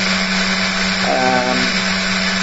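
A direct drive pulse motor with its rotor spinning, exit coil pulsing, gives a steady mains-like hum with a brief whirring rise in the middle, close and continuous with no talk.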